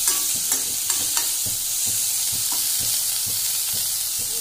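Green chillies frying in a pan, heard as a steady bright sizzle with regular clicks and taps from stirring, close and continuous with no talk.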